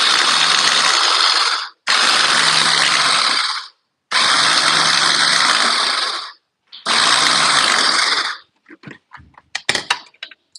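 A blender chopping red and green chilli, ginger and garlic in four loud pulses of about two seconds each with brief silences between, followed by scattered clattering knocks.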